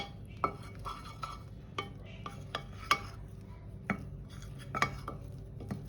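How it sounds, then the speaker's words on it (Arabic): A spoon works through biscuit dough and all-purpose flour in a bowl, folding from bottom to top, giving soft, quiet stirring with scattered sharp clinks against the bowl's side. "وهقلب بقى البسكوت كده ماشي من تحت لفوق"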